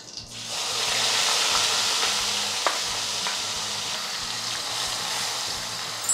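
Ground onion paste made from three onions fries in hot oil over a raised flame for a Double Beans gravy, giving a soft, continuous sizzle and hiss with faint stirring taps.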